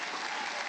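Audience applause at a public gathering, dense steady clapping filling a short burst without pause, loud and close throughout.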